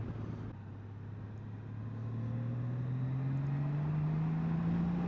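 A 2021 Honda Gold Wing with a manual gearbox pulls hard in second gear while riding, its steady engine drone rising smoothly in pitch as it builds speed, fairly faint under steady wind noise.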